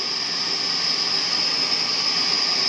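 Loud, steady hiss of white noise from a Behringer RD-8 drum machine with its filter on and tone boosted, a bright constant wash with a whistling edge and no talking.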